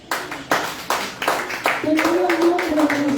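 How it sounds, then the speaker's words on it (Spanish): A church congregation clapping, a few single claps at first that quickly become steady rhythmic clapping, close and loud, with a voice continuing over it. "Den aplausos a nuestro Dios."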